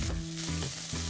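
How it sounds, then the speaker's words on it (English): Vegetables searing and sautéing in a soup pot, a dense close crackle of hot oil in one short burst. "So we're just giving them a nice sear and saute at the beginning."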